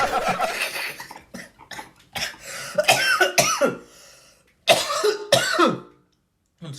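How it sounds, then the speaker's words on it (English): A person coughs in several harsh fits mixed with throat clearing and breathy laughter, close and loud, with short silent gaps between bursts. "I don't know why I'm coughing like this."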